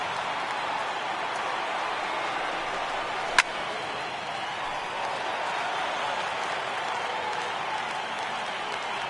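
A stadium crowd of over 31,000 rises and cheers in the ninth inning of a PS4 baseball video game. The even, sustained roar fills the whole stretch, broken by one sharp click partway through.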